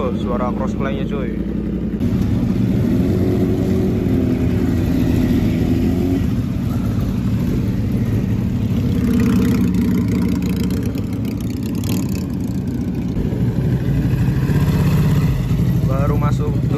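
Ducati Multistrada motorcycle with a dry clutch running at a gathering of motorbikes, its engine rumbling and revving loudly beneath continuous nearby talk and crowd noise.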